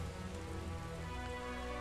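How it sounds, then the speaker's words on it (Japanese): Steady rain patters and hisses in the Taikou Risshiden V video game, a soft continuous downpour with no voices. "まだ降ってんのか雨"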